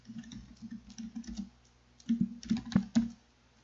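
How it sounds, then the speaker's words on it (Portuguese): Quick bursts of keystrokes on a computer keyboard, typing a short phrase into a Word document, close and crisp, with a brief pause midway and no voices. "Vou digitar aqui, por exemplo,"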